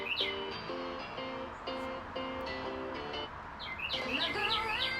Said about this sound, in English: Got a bird in the background.